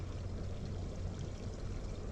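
Water flows and pours softly at a sulfur spring, a steady low gurgling stream heard alone at moderate distance.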